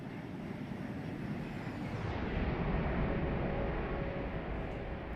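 An Airbus A321neo passes by in a flight simulator game as a broad, steady jet roar, loud and continuous, with the high hiss cutting off partway through as the aircraft goes past.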